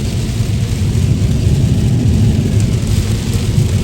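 Heavy rain roars steadily on a highway, a loud, continuous wash of noise with a low rumble underneath that may be thunder or passing traffic.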